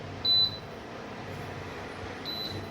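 An induction cooktop's control panel gives two short high-pitched electronic beeps a couple of seconds apart, set against steady low background hum.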